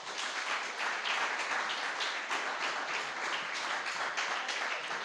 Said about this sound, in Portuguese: Se você quiser, você pode aplaudir ao Senhor.